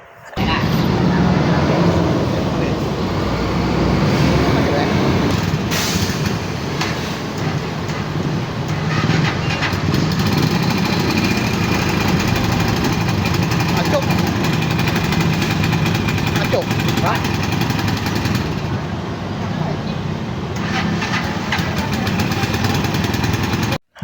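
A motorcycle engine with a black-smoke problem runs steadily and loudly for the whole stretch, a dense, continuous mechanical drone close by with no pauses.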